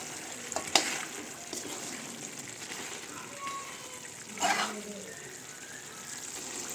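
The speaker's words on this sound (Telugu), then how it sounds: "ఇప్పుడు చికెన్ ఉడుకుతుంది కదా" Green chilli chicken with masala frying in a pan while being stirred, a soft steady sizzle with a few louder scraping clatters of the spoon, close and quiet.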